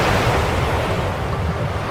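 Large ocean waves of a tsunami crash onto the shore in a children's educational animation about earthquakes, a loud, continuous roaring wash of surf with deep rumble and no voices.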